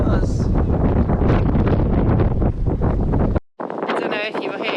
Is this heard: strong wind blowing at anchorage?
yes